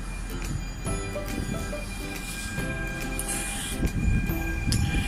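A Stadler Flirt electric multiple unit hums and rumbles steadily with rising electric motor whine and clanking wheels, a close, continuous sound of the train pulling away.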